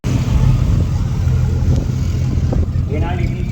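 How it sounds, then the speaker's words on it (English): A Toyota Supra drag race car at a drag racing shootout rumbles loudly and continuously nearby, its engine rough and throbbing throughout, with a voice talking over it. "Now Supra. This sounds nasty."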